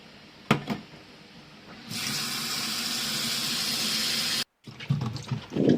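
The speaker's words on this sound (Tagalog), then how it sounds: "At ang hoisin, hugasan din natin." Huai shan yam is rinsed under a running kitchen tap, a steady rushing stream of water that starts after a couple of knocks, cuts off abruptly, then resumes with splashing as the root is handled.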